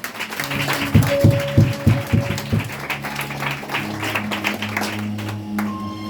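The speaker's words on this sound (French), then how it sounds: "Est-ce que tu peux lui donner un fond d'acclamation?" A church congregation at a French-language worship service applauds and acclaims, with loud clapping and bursts of rhythmic claps over music and a sustained tone, fading into a softer crowd wash.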